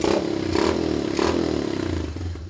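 A Kawasaki motorcycle idling after a CDI replacement, a steady close engine rumble with light rhythmic mechanical clatter and a couple of small rev swells, with no talking.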